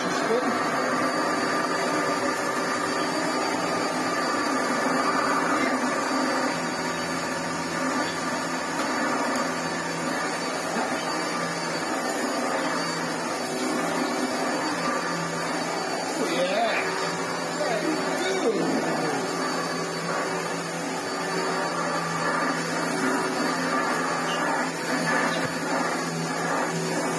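A Hitachi vacuum cleaner runs steadily with its brush spinning, giving a loud, even motor whine and airflow rush with a faint rattling texture. A person talks over the machine throughout.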